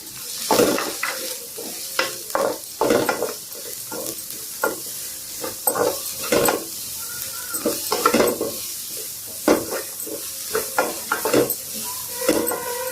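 Cabbage and onion stir-fried in oil in a pan for chicken fried rice, with a steady sizzle under repeated scraping strokes of a spatula against the metal, close and fairly loud, with no talking.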